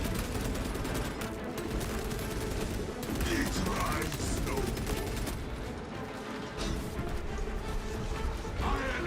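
Sustained automatic gunfire from a weapon in the video game Space Marine sequel, dense continuous bursts filling the whole stretch, loud and near, with crashes and impact noise mixed in.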